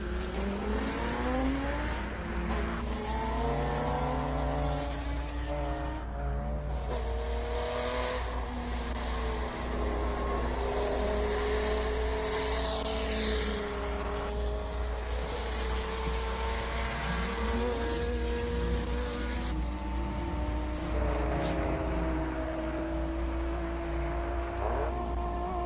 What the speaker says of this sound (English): Just listen to this Datsun.